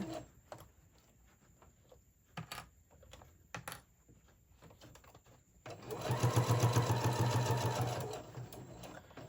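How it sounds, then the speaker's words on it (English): A sewing machine back stitches a seam on a fabric tote bag, a short steady whirring run that starts abruptly after several seconds of quiet handling clicks and rustles, loud and close. "I'm just gonna do a little back stitch there."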